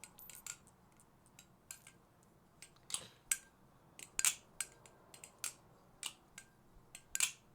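An A51 Phobos balisong knife is flipped by hand, producing sharp metallic clicks and clacks in irregular bursts, some doubled, close and crisp against near silence, with no talking.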